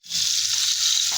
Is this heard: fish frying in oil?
yes